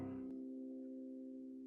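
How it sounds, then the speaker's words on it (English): On a Casio Privia digital piano, virtual strings ring in sympathetic resonance: a quiet, steady sustained harmonic tone lingers after a brief attack, fading very slowly with nothing else heard. "we can hear those virtual strings sympathetically vibrating"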